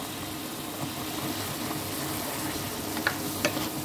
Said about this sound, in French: je vais mettre dans ma casserole de mon jarret qui bouillit calmement